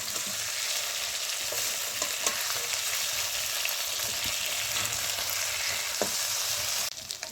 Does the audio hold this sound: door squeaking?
no